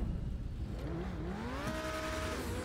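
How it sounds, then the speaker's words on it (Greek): A T20 supercar in GTA Online accelerates hard, its engine note climbing steadily in pitch as it revs up, loud and close with no talk. "πάμε να τεστάρουμε την ταχύτητα του T20"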